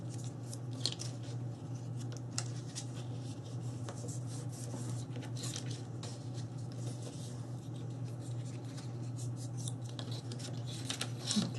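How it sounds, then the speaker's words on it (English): Scissors snip paper hinges for a handmade mini album, with a string of quick, close cuts and soft paper rustles over a faint steady hum. "Let's cut 4 1/2 inch hinges and go ahead and fold those."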